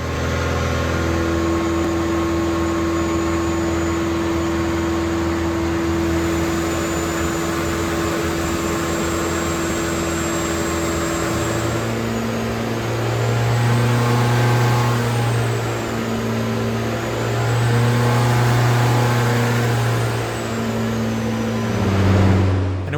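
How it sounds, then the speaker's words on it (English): A 1.6-liter turbocharged Miata drift car engine idles steadily while warming up, strapped down on a dyno. A loud, constant drone with fluctuating whine and tonal hum fills the space close by, with the pitch rising and falling slightly partway through. "strapping the car down to the dyno and then starting to warm it up ahead of the break-in runs"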